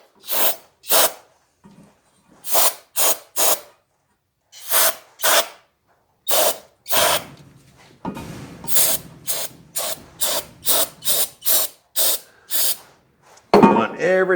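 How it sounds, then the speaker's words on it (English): Brake cleaner sprayed from an aerosol can onto a Harley-Davidson primary in bursts, a series of short close hissing blasts followed by longer repeated sprays, with no talking. "And we'll use a little brake cleaner on it."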